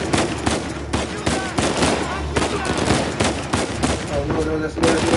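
Rapid gunfire in Uncharted 4 on PS4, bursts of shots layered over busy game music and effects, dense and continuous with little pause.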